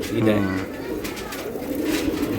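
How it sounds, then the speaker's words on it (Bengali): Caged pigeons for sale coo in low, throaty murmurs nearby, with a voice talking over them throughout. "দেখেন কবুতর দেখেন মাশাআল্লাহ"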